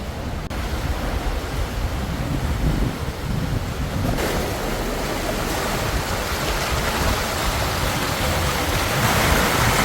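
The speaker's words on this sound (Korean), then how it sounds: "물살이 워낙 거세서 파도 소리가 마치 짐승의 포효 같습니다" Strong sea currents surging through the Uldolmok strait off Jindo, a continuous loud roar of rushing water and breaking waves, close and unbroken, with wind buffeting the microphone.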